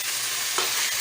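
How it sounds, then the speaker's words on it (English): Leftover turkey with bay leaves and peppercorns gets stirred in a frying pan, producing a bright, steady sizzle with one soft scrape near the middle. "Mix it."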